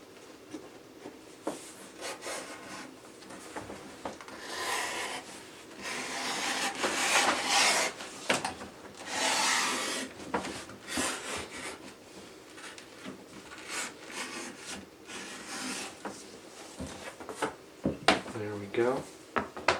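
Knife or blade drawn through a leather butt to cut straps, giving scraping, rasping strokes in bursts with brief pauses, fairly close, with a voice speaking in places.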